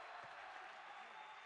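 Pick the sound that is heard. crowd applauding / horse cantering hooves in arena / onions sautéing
crowd applauding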